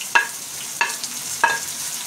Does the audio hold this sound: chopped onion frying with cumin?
yes